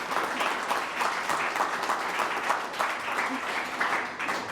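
Audience applause fills the room to welcome Secretary Lauren Jones at a state administration event on re-entry workforce grants, steady dense clapping lasting several seconds with no voices over it.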